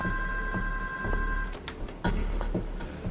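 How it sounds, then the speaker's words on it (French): A telephone ringing indoors, a steady electronic tone that gives way to repeated short clicking pulses over a low background hum, fairly loud with no speech. "Quelqu'un peut répondre au téléphone?"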